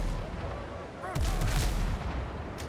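Enemy pirate ship cannons in the game Windrose fire a rapid barrage of heavy booms, loud and close, layered over a constant roar of battle noise.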